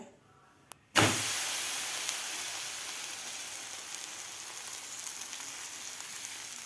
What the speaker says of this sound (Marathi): तवासुद्धा आपला गरम झालेला आहे तर आता आपण यावर थालीपीठ घालून घेऊया